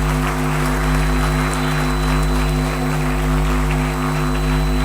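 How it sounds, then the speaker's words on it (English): A large graduation audience in a hall applauding, a continuous dense roar of clapping mixed with a strong steady hum and tones, sustained without breaks. "Give them your biggest rousing applause."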